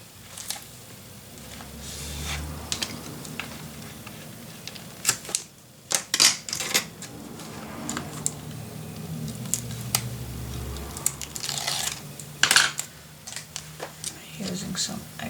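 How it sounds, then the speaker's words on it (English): Adhesive tape being applied while assembling a paper mini album, with scattered crinkles, taps and sharp tearing pops across a tabletop, some louder snaps near the end. "Apply my tape."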